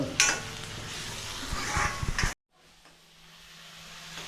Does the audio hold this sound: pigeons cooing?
no